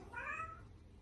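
A cat gives a single clear meow lasting about half a second. It sounds close and is heard on its own with no talk, leaving a quiet room afterward.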